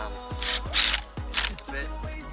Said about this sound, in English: you gotta make sure you tighten this collar down